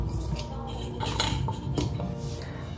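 A spoon scrapes and clinks against a bowl as ragi flour and wheat flour batter is mixed gently, with close, repeated knocks and scrapes and no talking.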